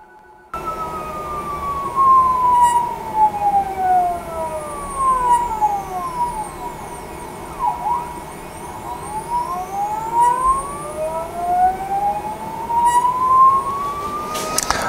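An Anycubic Wash & Cure machine for resin 3D prints, its cleaning propeller spinning then reversing direction, producing a loud whirring whine that sweeps up and down in pitch, repeating in rising and falling arcs.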